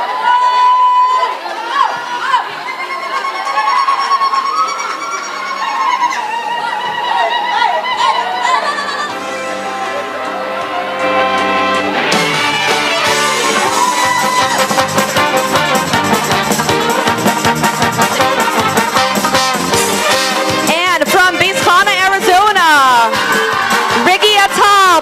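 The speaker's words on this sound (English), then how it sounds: "Let's give a cheer for all our girls from New Haven." An audience at a high school Chidon event cheers and applauds for the New Haven girls, first as chatter and a voice over music, then as a loud, sustained burst of clapping and shouting with music playing.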